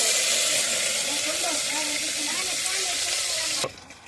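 Mustard seeds and curry leaves crackle and sizzle steadily in hot oil for a Telugu duck-meat curry with drumsticks and raw mango, a dense frying hiss that cuts off abruptly near the end.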